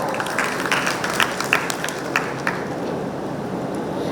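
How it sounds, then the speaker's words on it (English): Scattered audience clapping for a panel speaker at a finance event, a thin, patchy round of applause with distinct individual claps, fairly distant, fading out over a few seconds. "Let's give him a round of applause, everyone."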